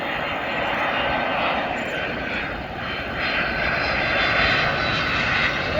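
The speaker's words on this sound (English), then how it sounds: "Is that a 757? That is a 757." A Boeing 757 passenger jet at BWI Airport roars steadily and loudly for several seconds, a broad engine rush that swells slightly toward the end with no talk over it.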